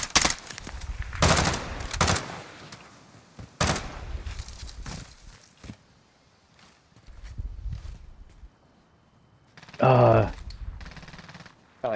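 Gunfire in the video game Call of Duty: Modern Warfare, with scattered bursts of shots spread across the clip and one loud, dense burst near the end, mixed with a player talking over the action.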